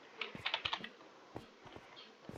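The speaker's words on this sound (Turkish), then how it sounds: "ben klavye tuşlarına abanıyorum" Quick, clattering keystrokes on a computer keyboard during a Block Drop game, a burst of rapid typing followed by a few scattered taps, close and fairly quiet.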